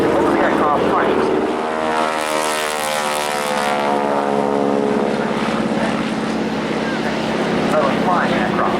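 Mk1a Spitfire propeller aircraft flying at the Duxford Battle of Britain airshow, its engine droning loudly as it passes close by, rising and then fading, while an announcer talks over it.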